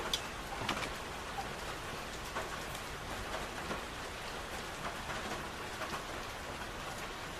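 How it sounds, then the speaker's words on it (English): Steady rain falling and pattering on surfaces, a continuous dense hiss with scattered louder drops, heard alone without any voices. "rain sound is giving me so much cheer"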